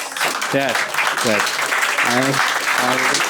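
Comedy-night audience clapping to welcome a comedian on stage, continuous applause with voices and shouts cutting through it.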